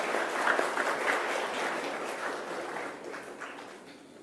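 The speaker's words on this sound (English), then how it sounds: "May I again request everyone to please have a round of applause" Audience applause at a university design school orientation ceremony honouring a professor, a broad steady wash of many hands clapping that slowly fades over a few seconds.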